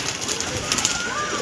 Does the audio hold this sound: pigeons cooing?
yes